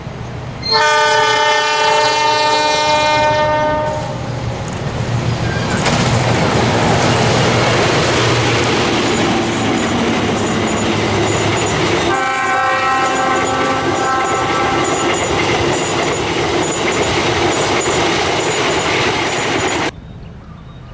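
A locomotive sounds its loud horn, then a train rumbles past with rushing, rattling wheels, and the horn blares again before the noise cuts off.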